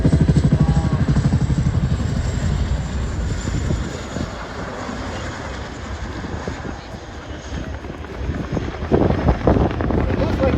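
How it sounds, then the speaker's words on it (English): A roughly 13-ton helicopter with 9,000 shaft horsepower performs a nose-over at an air show in Ayr, Scotland, its rotor and turbine rumble swelling and fading outdoors with wind buffeting the microphone. "As he throws approximately 13-ton worth of aircraft into the second noseover"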